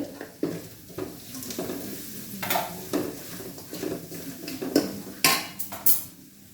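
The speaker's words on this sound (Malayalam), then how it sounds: "ഞാനതിലേക്ക് തക്കാളി അരിഞ്ഞ് വെച്ചിരിക്കുന്നത് ഇട്ട് കൊടുക്കുകയാണ്" Chopped tomatoes drop into a pan of garlic frying for rasam, with a steady sizzle broken by several sharp clinks and scrapes of a utensil against the pan.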